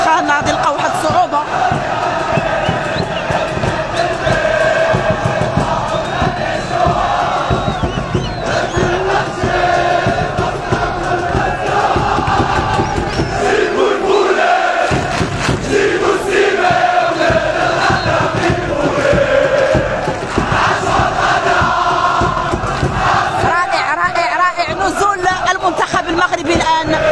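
A huge crowd of Moroccan fans welcoming their national futsal team, a dense roar of chanting, shouting and cheering that stays loud and sustained throughout, with voices mixed into the din.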